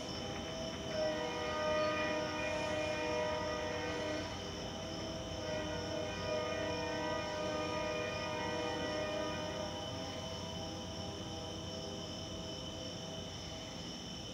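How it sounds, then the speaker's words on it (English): A Carolina Piedmont freight train rolls through a grade crossing in Fountain Inn, South Carolina, with a steady droning rumble and sustained tonal hum, heard continuously and somewhat distant. "Wow, so like two trains."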